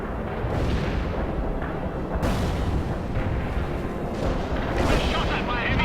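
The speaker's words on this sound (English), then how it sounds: "Inbound with napalm." Napalm strike in the game World in Conflict, a loud, continuous rumble of rolling explosions and roaring blasts that swell and surge, with faint voices under the din.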